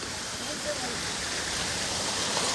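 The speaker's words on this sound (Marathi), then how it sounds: "प्रॉपर वॉटरफॉल आहे ते पण" Waterfall on the Kedarnath trek, a steady broad rushing roar of falling water, close and continuous throughout.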